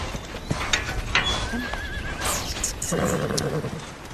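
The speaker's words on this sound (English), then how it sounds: "People give me their old horses, their sick horses, and I take care of them." A horse at a horse rescue ranch gives a clear, wavering whinny amid hoof clops and background rustle, with a brief voice nearby.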